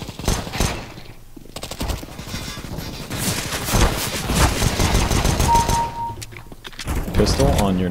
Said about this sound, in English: You ain't gonna walk through Negev spray twice.